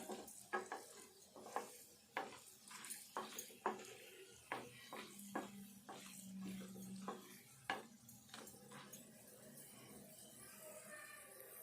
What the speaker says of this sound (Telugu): శనగపప్పు, మినపప్పు, ఎండుమిర్చి ఇవన్నీ కూడా కొంచెం దోరగా వేగాలి.